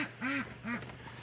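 A homestead duck gives two loud, close, nasal quacks in quick succession, each short and rasping, followed by quiet.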